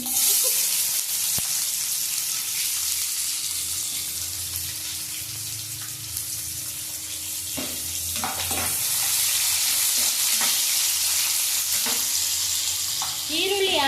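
Onions and whole pulao spices frying in oil for Kashmiri chicken, a loud continuous sizzle with bursts of crackling and clattering stirring toward the end, no speech.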